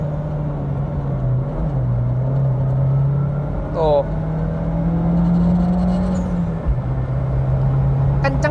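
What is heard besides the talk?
Mitsubishi Evo X RS accelerating, no sound insulation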